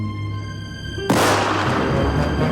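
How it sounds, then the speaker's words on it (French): A gunshot goes off in a French animated Little Red Riding Hood cartoon: quiet tonal music is cut by a sudden loud blast, which trails into a sustained noisy rumble. "il entendit des coups de feu éclater tout près"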